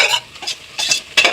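A spoon scrapes and stirs masala being sautéed in a pot for Patti-style chicken biryani, several loud close strokes in quick rhythm over a light sizzle.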